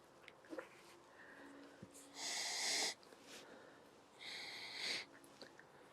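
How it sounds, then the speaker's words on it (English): A person sniffing new leather motorcycle boots up close, two long, strong inhales with a pause between them and faint handling noises around them. "let's give it a sniff test"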